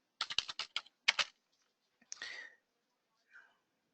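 Typing on a computer keyboard: a quick burst of about eight close key clicks, then a couple of softer isolated taps with quiet gaps between.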